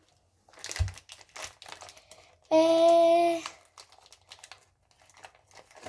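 Plastic packaging bag of a Polly Pocket toy crinkles in one loud, close burst lasting about a second, with faint rustling and handling noises before and after.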